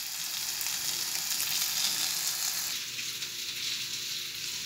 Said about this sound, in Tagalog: prito-prito ko ng konti yung manok bago kong gisahin